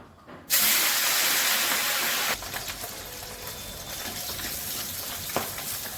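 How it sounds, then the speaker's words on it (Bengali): Fish frying in mustard oil in a home kitchen, a loud burst of hissing sizzle as the fish hits the hot oil, then settling into a softer, steady crackle with an occasional tap. "প্রথমে আমি মাছগুলো ভেজে নিচ্ছি"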